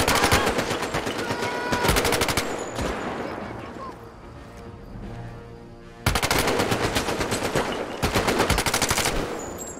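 Rapid gunfire in the World War II virtual reality shooter Medal of Honor VR: two long loud bursts of fast automatic fire with a quieter stretch between them and a voice talking.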